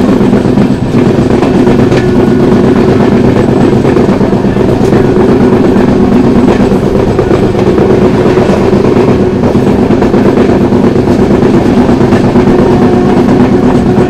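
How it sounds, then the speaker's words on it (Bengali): The 12857 Tamralipta Express rolls into Digha station with a loud, steady rumble and a continuous clickety-clack of wheels over rail joints, heard alone without voices. "আমার ট্রেন ঢুকছে দীঘাতে।"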